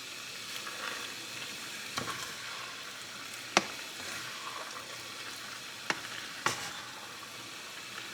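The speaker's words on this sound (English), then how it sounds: "we're going to stir that up. Start letting those get a little tender." Celery and carrots sauté in a pan as a base for chili with beans, with an even, moderate sizzle and a few sharp spoon or spatula knocks against the pan as the vegetables are stirred.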